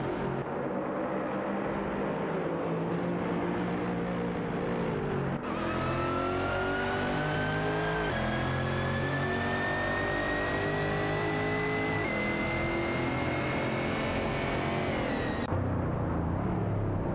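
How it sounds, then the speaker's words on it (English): AI race cars in a racing video game roar and accelerate continuously, engine pitch climbing and shifting through gears, loud and sustained with one car's whine rising over the rest. "We're just racing some AI cars"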